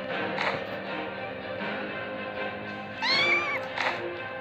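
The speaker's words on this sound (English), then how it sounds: "There's a kitten." A kitten meows several times over a steady background of other sound, with one clear, rising-and-falling meow standing out near the end.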